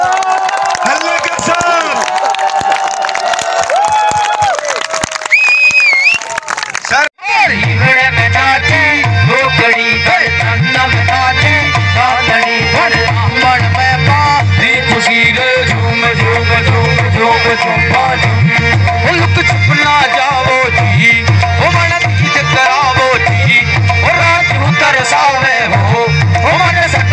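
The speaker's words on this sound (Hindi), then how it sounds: "एक बार शेप शॉप वाली तालियां बजा के दिखाओ, हल्ले के साथ, हल्ले के साथ" A large crowd at a night-time celebration claps and cheers loudly and continuously after a brief pause, dense and sustained, with shouting mixed into the noise.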